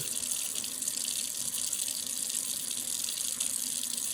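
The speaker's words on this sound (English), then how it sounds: "before I discard this paper towel, I'm going to use it to reach down and turn off my faucet" A bathroom faucet runs steadily during a handwashing demonstration, a constant close hiss of water pouring into a sink with no voices over it.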